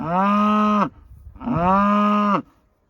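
Fall-calving beef cows overwintered on a field let out two long, loud moos, each lasting close to a second, with a brief pause between them and no talking.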